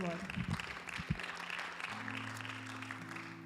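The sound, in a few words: congregation applauding in church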